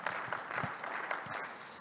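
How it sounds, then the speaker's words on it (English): A conference audience applauds after a technical talk, steady clapping from many hands heard indoors for a couple of seconds. "let's start by giving Kumar a round of applause just to thank him for so far"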